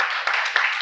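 Soft, steady applause from an audience at a memorial ceremony, a dense wash of many hands clapping at a moderate distance with a few sharper claps standing out.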